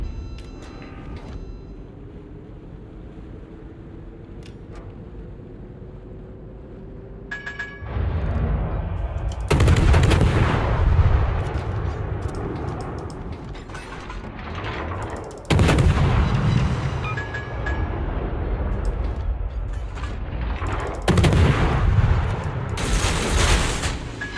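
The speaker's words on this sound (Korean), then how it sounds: "이것이 포격" Naval guns shelling in World of Warships: heavy, booming salvos roll out in several loud waves, each followed by sustained rumbling, over a quiet background of ship noise.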